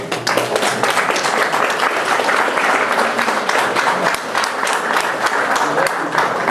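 A room full of guests applauds at an exhibition opening and 97th birthday celebration for photographer Stefan Arczyński. The clapping is dense, steady and sustained throughout, with no talk standing out.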